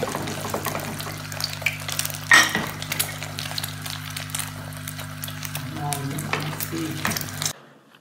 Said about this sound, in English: So nice cooking sound.